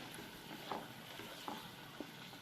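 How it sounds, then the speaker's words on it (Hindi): Tomatoes frying in a karahi for chicken karahi make a faint, continuous sizzle, with a few soft stirring knocks spaced about a second apart. "टमाटर जब तक ये फ्राई होता है"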